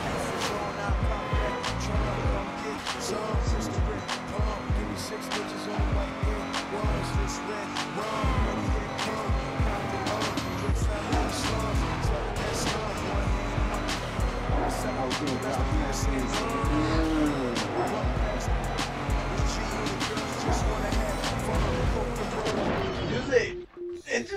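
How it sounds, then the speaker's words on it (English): Tires squeal and skid in the Midnight Club 3: Dub Edition Remix racing game as a car engine roars continuously and loudly through the race, with players talking excitedly over it. "Skidding out."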